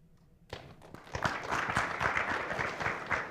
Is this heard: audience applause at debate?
yes